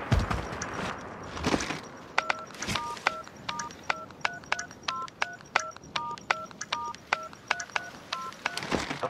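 Bomb defusal in a competitive shooter video game, heard as a steady sequence of short electronic beeping tones in regular pairs, with a few footsteps and thuds underneath.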